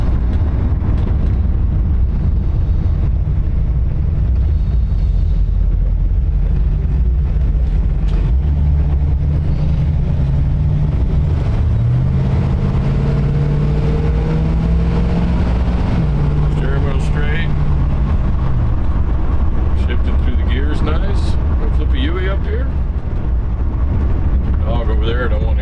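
A 1954 Chevy DeLuxe coupe with a 348 Tri-Power engine rumbles steadily while driving, a low engine drone with some rising and falling pitch, heard from inside the cabin under occasional speech.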